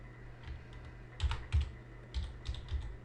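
Keys clatter on a computer keyboard as a query name is typed, a few scattered light taps followed by two quick bursts of keystrokes, close and clear with no talk.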